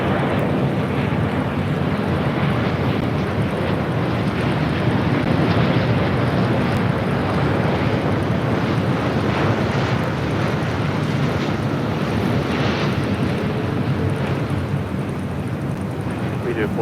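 An Airbus A320 from London Heathrow on final approach into LAX makes a continuous, fairly loud engine roar, a broad airy rumble that stays even throughout.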